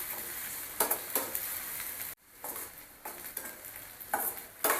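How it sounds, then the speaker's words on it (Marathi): Carrot, capsicum and onion sautéing in a pan, a steady close sizzle broken by repeated scraping stirs, with one brief pause midway before the frying hiss returns. "कांद्याबरोबर हे पण परतून घेऊया।"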